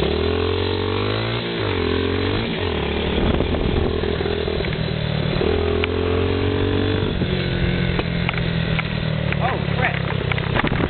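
Dirt bike engine revving and dropping in pitch as the rider downshifts to slow down, loud and close with repeated rising and falling tones; a voice speaks briefly over it.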